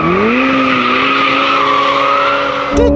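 A Novitec-tuned Ferrari F8 Spider with 802 horsepower accelerates hard, its engine note rising and holding as a loud, close, strained howl before a brief shift-like break at the end.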